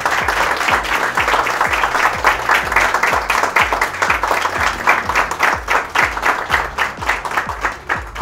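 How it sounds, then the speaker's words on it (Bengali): An audience at a celebration for PrepMed's fifth anniversary gives loud, sustained applause for their parents, dense clapping with rhythmic bursts running through the whole stretch. "জোরে একটা হাততালি তোমাদের পেরেন্টসদের জন্য"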